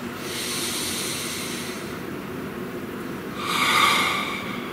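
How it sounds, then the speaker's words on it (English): A deep breath drawn in during a quiet guided meditation, a soft airy inhale swelling and then fading, alone with no talk. "Please take a nice deep breath"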